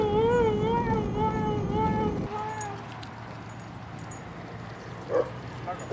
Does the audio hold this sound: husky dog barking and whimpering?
yes